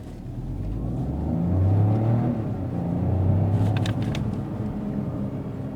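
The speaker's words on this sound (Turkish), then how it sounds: "Tabii mesafe kısa olduğu için fren testini de yapmış olduk." Citroën C3 Aircross Hybrid 145 HP accelerating from a standstill and then braking, heard from inside the cabin as a steady engine and road rumble that swells, eases and swells again, with a few faint clicks near the end.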